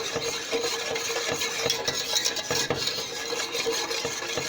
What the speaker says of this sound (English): right now we're stirring in our vanilla, sugar, and salt into our 3 cups of milk